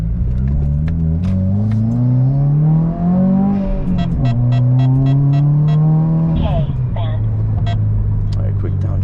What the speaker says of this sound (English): I want to do a couple of good accelerations for you guys.